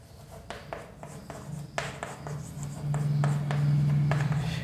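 Chalk or marker scratching across a board during a physics lecture on cathode rays, a series of short, irregular strokes and taps, fairly quiet, with a low hum rising in the background.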